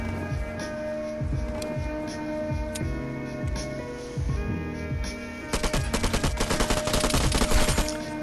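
Rapid automatic gunfire from the PM rack weapon in a first-person video game shootout, with bursts of close, loud repeated shots that build into a dense, steady stream of fire over a humming game background.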